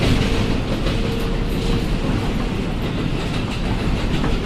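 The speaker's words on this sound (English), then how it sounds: "The first noise, trains." Train noise played from a novelty New York City sleep noise machine: a steady, loud rumble of rail cars rolling along with faint clickety-clack of wheels over track joints, continuous throughout with no talking.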